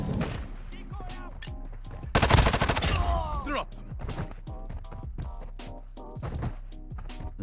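Gunfire in the mobile shooter Warzone Mobile, with a loud burst of rapid automatic shots in the middle and scattered shots before and after, set under game music and effects while a player talks throughout.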